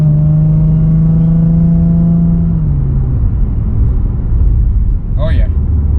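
A 2011 Lexus IS350 fitted with a Pedal Commander pulls away as its engine note holds steady then drops into a lower rumble, loud and close inside the cabin, with a brief voice near the end.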